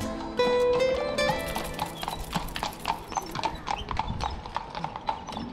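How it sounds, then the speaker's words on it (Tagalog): Horse hooves clip-clop along a street near Stephansplatz in central Vienna, a steady rhythmic series of clear hoof strikes with a whinny at the start, passing fairly close amid faint talk. "Ayan na si Kabayo."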